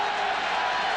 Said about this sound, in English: And it brings the crowd up out of their seats.